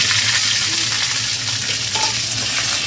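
Capsicum, yardlong beans, green beans and carrot with bay leaf frying in a pan, giving a loud, close, continuous sizzle with soft stirring movement and no voices.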